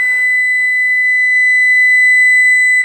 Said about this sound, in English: that sound you just heard is my oven heating up here